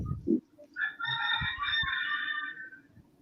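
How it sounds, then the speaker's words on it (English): A rooster in the Philippines crows once in a long, clear cock-a-doodle-doo at moderate distance, with a few soft clucks and thumps around it. "Oh, I can hear that rooster in the background."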